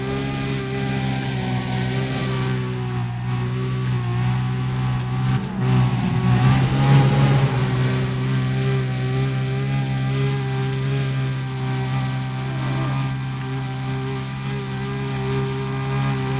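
Racing car engine in Need for Speed: Undercover during a sprint race, a sustained loud roar with steady harmonic drone and shifting pitch as it accelerates, with a brief surge of revving midway.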